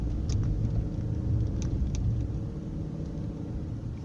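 A car pulls away as the driver presses the gas, a low steady engine rumble heard from inside the cabin, moderately loud and even, with no talk.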